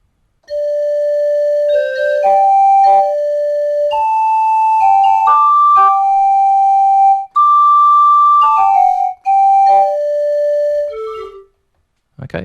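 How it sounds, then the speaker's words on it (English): A sampled Swanee whistle from an orchestral library plays a bright, pure-toned phrase of held notes with slides between pitches, close and clean with no other sound. "And then the Swanee whistle,"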